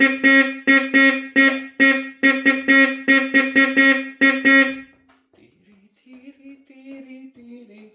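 Repaired horn on an Austin 7 Ruby car, its fault fixed with fibreglass, gives a rapid series of loud, buzzy honks in quick bursts, then stops; faint talk follows after.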